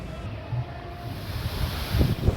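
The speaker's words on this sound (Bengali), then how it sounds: "সকাল থেকেই ঝোড়ো হাওয়া বইছে।" Stormy wind from Cyclone Remal in Kolkata blows as a steady, broad rushing roar, with gusts and buffeting against the microphone building toward the end.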